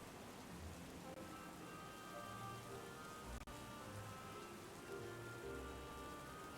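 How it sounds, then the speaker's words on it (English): Rain falling steadily, a faint even hiss of drops on surfaces with a brief sharp click midway, otherwise constant and distant. "it started to rain and such"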